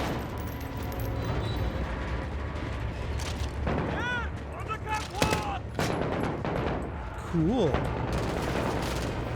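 Gunfire in Call of Duty: Modern Warfare, dense bursts of shots cracking through a chaotic firefight, with players talking over the near-constant shooting.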